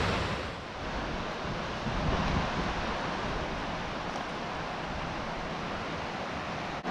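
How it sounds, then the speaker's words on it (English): Clear Creek rushing beneath a natural rock arch in the Wind River Range, a steady, broadband roar of flowing water that stays even and continuous throughout, with no voices. "Clear Creek just runs right under this natural arch"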